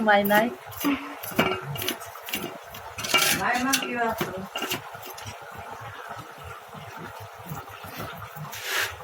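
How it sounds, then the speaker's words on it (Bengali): Hilsa fish being cut in a home kitchen, with steady clinks, scrapes and knocks of knife, utensils and dishes throughout and a brief voice near the start. "এই যে ইলিশ মাছটা এর ভিতরে কেটে নিচ্ছি"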